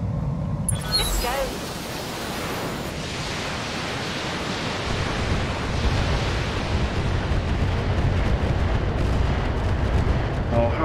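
Weapon strike explosions in the mech combat game BattleTech roll out as a dense, sustained rumble with a sharp burst near the start, continuous and loud throughout.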